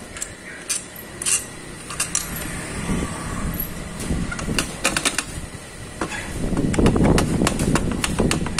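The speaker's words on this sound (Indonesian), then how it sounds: "Kalau saya pakai impact untuk mempercepat pekerjaan dan memperingan ya, biar cepat karena ini sudah ditunggu yang punya" A pneumatic impact wrench loosens the eight bolts on a motor scooter's CVT cover, firing in several short, rattling bursts with pauses between them and a longer, louder run near the end; no one speaks.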